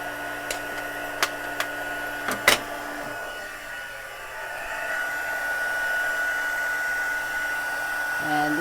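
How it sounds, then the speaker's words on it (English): A heat embossing heating tool blows hot air in a steady whirring hiss for several seconds, close and fairly loud, preceded by a few sharp clicks as it starts up. "And then our heating tool should be warm,"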